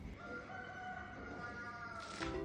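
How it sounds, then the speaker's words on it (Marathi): A rooster crows at morning in Hampi, a long sustained crow ringing out clearly over a steady ambient background, with a sharper rise at the very end. "इथली सकाळ ना कोंबड्याच्या आरवण्याने होते"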